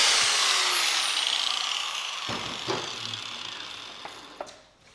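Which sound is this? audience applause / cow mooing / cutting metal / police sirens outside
cutting metal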